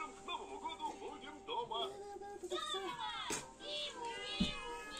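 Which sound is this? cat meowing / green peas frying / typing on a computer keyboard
cat meowing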